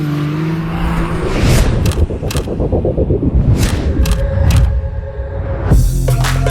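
MG Cyberster sports car accelerates hard on a racetrack in the UAE, a loud close rush of drive and tyre noise that swells and fades in waves.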